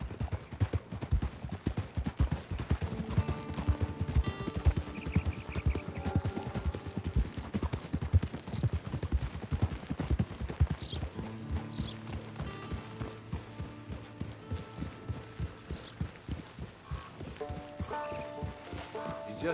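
Horse hooves clip-clop steadily in Red Dead Redemption 2 Online, a regular rhythmic trot under background game music and ambient sound, with occasional voices.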